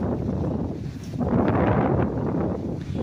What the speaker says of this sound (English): Sorry, it's very windy out here.